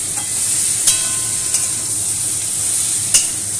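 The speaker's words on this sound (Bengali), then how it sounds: "এবারে আমি এগুলোকে ভালো করে একটু নাড়াচাড়া করে নিচ্ছি" Cut phuluri fritters are stirred in a pan with a constant sizzle of frying oil and a few sharp scraping taps of the utensil, close and moderately loud.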